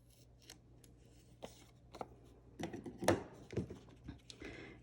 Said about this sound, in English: we're going to come up the middle, and we're just going to snip off those corners